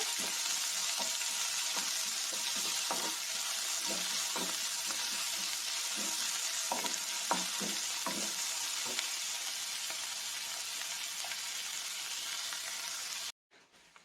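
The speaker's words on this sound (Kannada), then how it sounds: "ಈರುಳ್ಳಿ ಚೆನ್ನಾಗಿ ಫ್ರೈ ಆಗಿದೆ" Chopped onions frying in a pan for bread masala, a steady close sizzle with scattered crackles and occasional stirring scrapes, running alone without talk before cutting off near the end.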